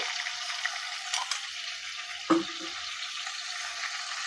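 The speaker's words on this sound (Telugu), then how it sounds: "దీన్ని ఫ్రై చేసుకుంటున్నాను అన్నమాట" Ginger garlic paste fries in a pan with a steady hiss throughout. A few spoon clinks and one sharper knock against the pan come through near the middle.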